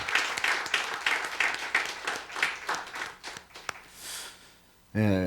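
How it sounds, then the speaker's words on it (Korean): Churchgoers at a year-end worship service clap in a short burst of rhythmic applause that fades out, followed by a brief voice at the end. "우리 다시 한번 박수로 격려합니다"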